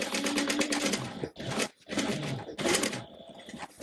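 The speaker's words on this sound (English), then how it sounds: "I'm gonna baste it to this piece of scrap, one side of it" A sewing machine stitches a bag handle onto a piece of scrap fabric with rapid rhythmic needle chatter, pausing briefly twice between bursts of running, close and steady.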